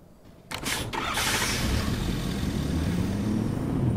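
A car engine in the video game Fortnite starts with a couple of sharp mechanical clicks, then settles into a continuous low rumbling idle that stays fairly loud to the end.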